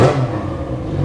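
A Yamaha XJ6 motorcycle engine gives a short loud rev that drops off quickly into a lower rumble.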